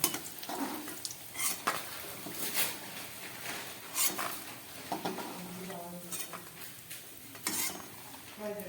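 Fried lentil dumplings (bori) are lifted out of hot oil with a metal utensil: scattered scraping clinks against the pan over a faint, intermittent sizzle, close and quiet.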